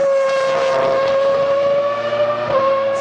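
Formula One car pulling away from the starting grid under launch control, a loud sustained engine note holding steady and climbing slightly with a brief dip near the end, close and continuous.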